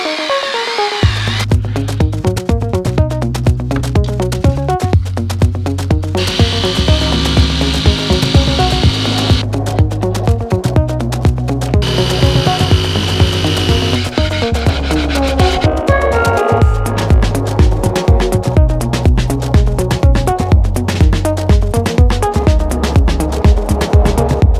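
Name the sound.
cutting holes in wood van decking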